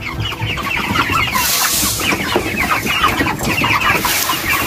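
A flock of chickens clucks busily and loudly at feeding time in a rural yard, dense overlapping calls with no talking.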